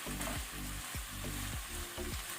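Green, red and yellow capsicum sizzles and crackles in an open pan during a shrimp and chestnut mushroom stir fry, a steady close frying hiss with repeated stirring scrapes and no talking.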